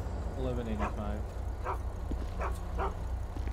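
A dog whimpers and yips in short, high, wavering cries beside a vehicle at a roadside stop, over a constant low engine hum with people talking nearby.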